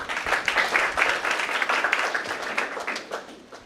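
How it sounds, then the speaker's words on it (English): Audience at a university intra-departmental debate competition applauding the judges, a steady, dense patter of many hands clapping together throughout, moderately loud and close with no voices over it. "We request everyone to give them a warm round of applause"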